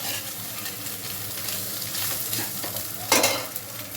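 Egg fry being stirred in a pan, a steady close sizzle with scraping strokes and a sharper clatter near the end, no voices.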